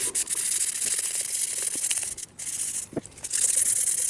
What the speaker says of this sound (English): You notice I am wet sanding these. It is wet dry sandpaper